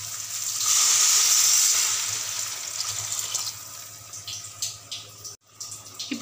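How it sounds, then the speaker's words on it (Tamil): Water is poured into a pot of mutton biryani rice, a loud gushing splash at first that settles into bubbling and sizzling, with no voices. "இப்போ 4 டம்ளர் தண்ணி மட்டும் ஊற்றினா போதும்."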